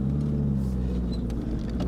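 A car accelerates hard during a test pull on a closed course in Colorado, its engine giving a loud, close, steady drone with a low throbbing hum and no talking.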